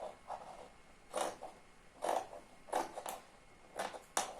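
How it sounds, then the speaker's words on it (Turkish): Tunic fabric is cut for the back piece with scissors: a series of soft, close rasping snips comes in irregular bursts, quiet in a calm room with no talking. "Evet arka bedenini de kesiyorum."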